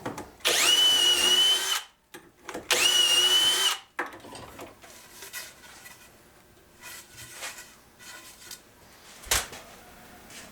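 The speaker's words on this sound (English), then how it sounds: "now I'm going to be drilling into the face of the mating piece" A cordless power drill bores into hardwood through a dowel jig in two loud whining bursts of about a second and a half each, followed by quieter handling clatter and knocks at a workbench.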